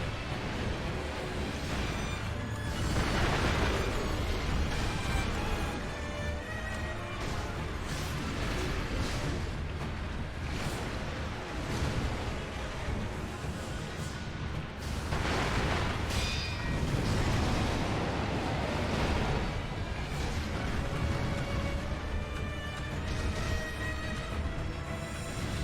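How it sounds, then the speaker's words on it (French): Firecrackers burst in the video game Sekiro, a dense run of loud booms and crackling blasts over steady game noise, with several heavier explosive swells spread across the stretch. "Utiliser les pétards."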